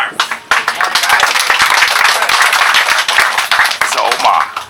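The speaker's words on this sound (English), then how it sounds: "Round of applause for Omar." An audience aboard a sightseeing submarine claps in a sustained burst of applause, dense and lively, with a few voices mixed in.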